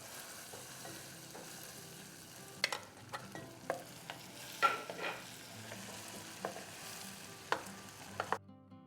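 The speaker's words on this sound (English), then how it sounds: "now that our sugar has turned liquid and an amber color, I'm going to beat in the butter" Butter is beaten into liquid amber caramelized sugar in a pan, a soft continuous sizzle and bubbling broken by scattered sharp scrapes and clinks of the utensil, close and fairly quiet.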